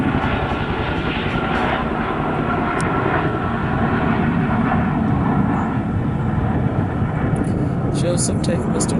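A military airplane passing overhead in a park makes a loud, sustained roar of engine noise that fills the whole stretch, with a few faint higher clicks near the end.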